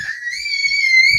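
A single sustained high-pitched scream inside a room, loud and close, held steadily for about a second with a thin whistling quality and almost nothing else around it.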